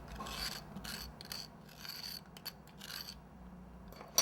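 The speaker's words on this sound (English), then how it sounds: "I'm going to just flip it over and scrape right here so I can get a nice window." Soft, close scraping of a hand tool against the inside of a hollow molded sugar egg, carving out a window for Easter decorating. Short raspy strokes repeat in bursts, quiet and alone, ending with a brief sharper knock.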